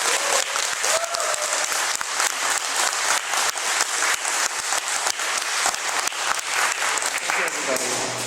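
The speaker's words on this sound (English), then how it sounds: "So let's give him a round of applause." Sustained audience applause at a 2015 City of Newton Ward 2 alderman political debate, dense and steady clapping from a full room lasting the whole stretch without pause.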